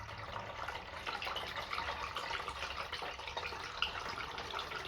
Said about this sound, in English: Then we're gonna pour in some .4 brake fluid.